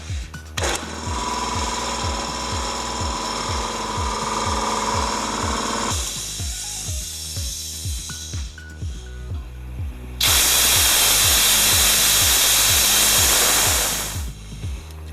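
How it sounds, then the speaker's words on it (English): A piston air compressor runs with a steady pounding rhythm while its bottom drain valve opens, loosing a loud, sustained broadband hiss of escaping air for about four seconds before cutting off. "gonna open the valve on the bottom and drain everything out completely"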